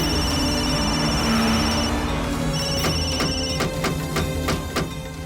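A telephone ringtone plays loud and close, first as sustained electronic tones and then as a run of rapid repeating rings, with no speech over it.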